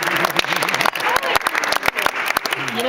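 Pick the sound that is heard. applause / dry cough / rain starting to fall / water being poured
applause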